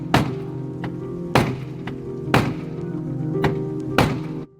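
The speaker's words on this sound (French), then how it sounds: "Après quelques coups de marteau..." Four heavy hammer blows at roughly one-second intervals, each a loud metallic thunk with a short ringing tail, close by, striking trim on a crash-damaged Rolls-Royce.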